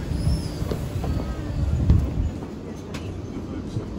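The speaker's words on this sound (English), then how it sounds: "Welcome aboard this London Northwestern Railway service." Low rumble of a London Northwestern Railway train running, with a steady close onboard drone and faint rattles throughout, alone without talk.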